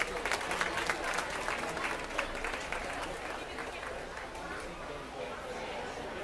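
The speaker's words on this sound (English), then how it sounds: "Let's give all these exhibitors a round of applause." Applause for exhibitors at a youth swine market show, steady clapping from a crowd in a show barn mixed with background chatter, gradually easing off.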